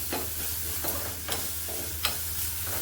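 Green chilies sautéing in a little oil in a pan, a steady close sizzle with three or four distinct stirring scrapes, no voices over it.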